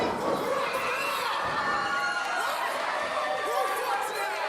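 Wrestling crowd at a live match in Bubba Sutton vs Colton Alexander, chanting together in a dense, steady roar of many voices, loud and continuous throughout with rhythmic swells.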